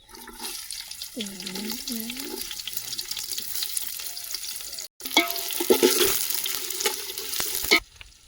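Food sizzles in a hot pan while utensils scrape and stir, with a voice speaking over it and a louder burst of sizzling midway.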